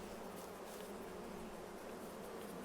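Bees buzzing around beehives in the farming game Farming Simulator 22, a steady, even drone of insect wings that holds constant throughout with no talk over it.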